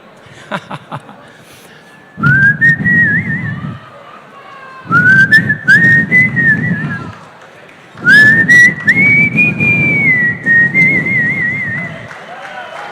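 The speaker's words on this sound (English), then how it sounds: "can you do a little whistle?" A crowd at a boxing convention whistles in three long bursts, shrill tones rising and wavering over a mix of cheers, with quiet gaps between each burst.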